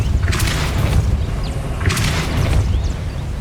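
A Depulso force spell strikes in Hogwarts Legacy, landing as two loud whooshing, booming bursts about a second and a half apart over a steady rumbling game soundscape.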